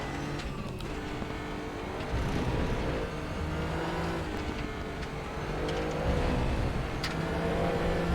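Racing car engines roar and rev continuously, rising and falling through gear changes, with a steady mechanical drone and no talking.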